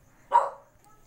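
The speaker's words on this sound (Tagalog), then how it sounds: "Pasensya na po kung may narinig ko yung background na aso." A single short dog bark sounds in the background, mid-distance and moderately loud, against an otherwise quiet room.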